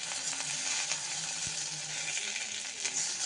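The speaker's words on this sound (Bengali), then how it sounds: "একদম ছিটকে ছিটকে মাছগুলো গায়ের মধ্যে কতগুলো তেল পড়েছে আমার" Fish frying in hot oil, a close, even crackling sizzle with small spattering pops throughout, no voices.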